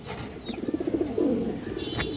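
A pair of high-flyer pigeons coos nearby in soft, rolling, low-pitched bursts, with faint rustling and a thin background hiss.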